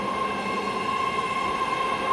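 A BART subway train at Millbrae Station hums steadily with a high whining tone and rolling rumble, loud and close throughout the short span.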